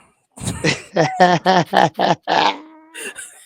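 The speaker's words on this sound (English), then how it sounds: "You stupid dog." A dog lets out a quick run of about eight close, loud barks or yelps in an even rhythm, then two shorter sounds after a brief pause.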